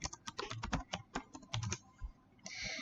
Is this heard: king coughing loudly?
no